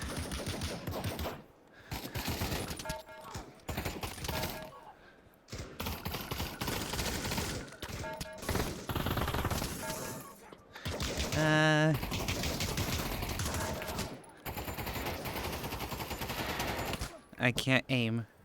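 AK rifle fired in a VR shooter game, heard as several short bursts of rapid automatic gunshots scattered among game sounds and talking, loud and close, with gaps between the strings of shots.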